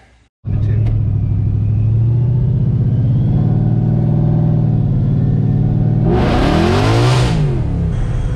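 A 1989 Mustang GT with a turbocharged Gen II Coyote engine and 3.3 pulley rumbles loudly at a steady idle-like drone, then revs sharply up and back down near the end, close and continuous.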